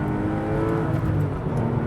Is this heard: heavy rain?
no